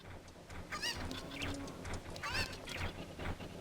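Squawking chicken calls from the video game Zelda: Ocarina of Time, with two short clustered outbursts of clucks over a steady game background hum.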